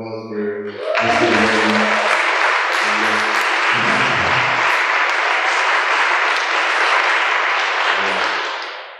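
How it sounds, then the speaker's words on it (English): Audience applause at the close of a talk: a dense, loud wave of clapping that starts abruptly, holds steady for several seconds and tapers at the end, with someone speaking over its opening and again near the finish. "Give a round of applause for Mr. Berry."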